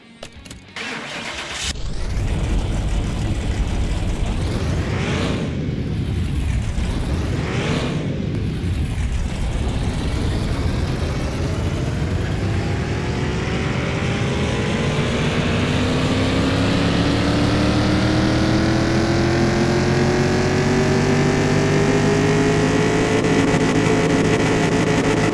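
A car engine in Car Mechanic Simulator 2021 starts and revs on a dyno, climbing into a loud, sustained steady roar with rising whine harmonics that holds for a long stretch with no talking.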